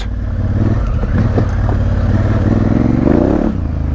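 A Honda Africa Twin motorcycle spins its rear wheel off-road, a loud continuous engine drone with rising revs, gravelly scraping and clatter from the tyre churning the ground, close up.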